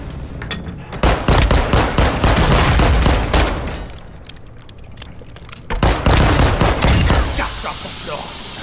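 Heavy automatic gunfire in an MK22 sniper-rifle shooter video game, two dense loud bursts of rapid shots with a lull between them, and voices shouting over the firing.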